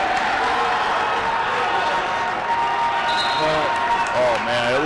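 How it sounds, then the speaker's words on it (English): Spectators at a men's college basketball game begin to stir and cheer from the stands, a steady crowd roar under ongoing talk, with sneaker squeaks and court sounds rising near the end. "now we start to hear the crowd, which has been kind of silent for most of this game"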